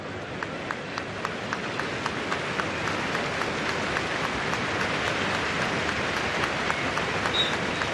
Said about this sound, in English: Round of applause for Emmett Bolton.